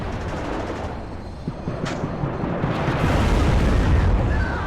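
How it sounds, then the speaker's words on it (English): Jaguar rocket strike explosions in the Wargame video game as the rockets hit a T-62 tank in a mountain battle: a rumbling barrage of deep booms and cracks that grows louder and denser toward the end. "Jaguar rocket strike comes in, takes out one of my T-62s"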